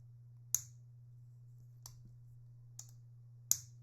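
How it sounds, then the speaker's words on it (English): A pen cap snapped shut several times, four crisp, close clicks at uneven intervals over a low steady hum, with no talking. "This gets a nice click too."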